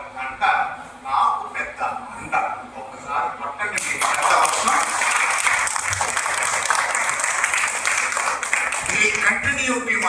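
Applause from a seated audience at a comedy show breaks out after someone speaks, then continues as a loud, dense, sustained clapping for several seconds.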